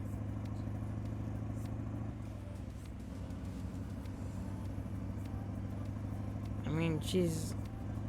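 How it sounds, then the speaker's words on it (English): Engine rumble of a car in a modded racing video game, a steady drone that rises briefly near the end as the car accelerates, with a person talking over it throughout. "I hit the gas and she takes right on off."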